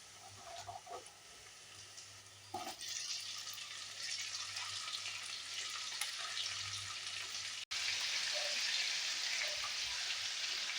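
Vegetables fry in a pan for egg chowmein, making a continuous soft sizzle that jumps louder around midway, with light stirring scrapes and no talking.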